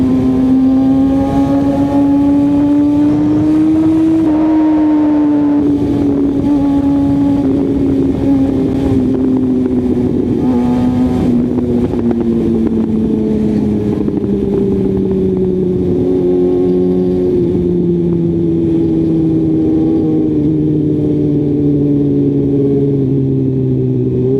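Steady loud engine drone from a vehicle moving fast on a road, its pitch rising then sliding down over a long stretch, with continuous wind and road noise close to the recorder.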